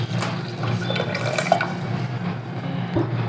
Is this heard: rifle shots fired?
no